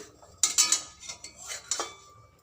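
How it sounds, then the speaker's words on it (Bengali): Metal lid lifted off a pan while cooking chitoi pitha, a few light clinks and scrapes of metal on metal, close and quiet, with nothing else in the room. "আমি এবার ঢাকাটা খুলে নেব"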